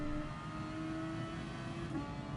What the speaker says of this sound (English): Listen to that engine shift.